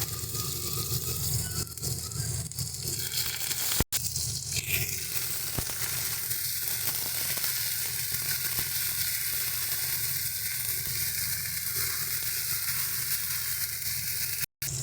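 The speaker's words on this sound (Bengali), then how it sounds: "এবার এর মধ্যে জিরে, তেজপাতা, শুকনো লঙ্কা ফোড়ন দিয়ে দিচ্ছি।" Cumin seeds, bay leaf and dried chilli tempering in hot oil for a prawn curry, a steady even hiss of frying that carries on without pause and stays fairly quiet, with one brief knock partway through.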